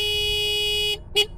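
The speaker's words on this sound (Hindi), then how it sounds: "रॉकी, हॉर्न बजाना बंद कर यार" A car horn blares in one long steady honk for about a second, then a short second toot follows after a brief gap, close and loud.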